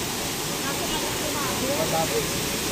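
Tamaraw Falls, heard from below the waterfall: a steady, dense roar of falling water filling the whole short stretch, loud and unbroken.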